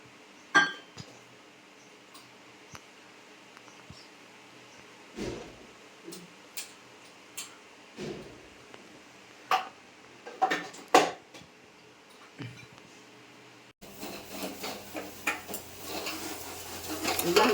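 Dishes and jars being washed in a home kitchen during Gudi Padwa festival cleaning: scattered sharp clinks and clatters at irregular intervals, some close and loud, growing into busier, continuous clattering toward the end.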